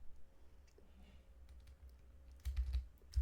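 Keys tapped on a computer keyboard while entering a command into a Python Discord bot chat, soft scattered clicks at a quiet level, growing into a denser burst of typing near the end.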